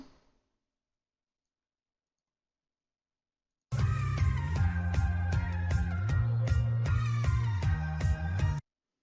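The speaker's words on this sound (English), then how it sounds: "it makes it a little more squeakier if you speed it up" Sped-up music after a long silence, bright and busy with quick repeated notes and a slightly squeaky, tinny quality, playing for about five seconds.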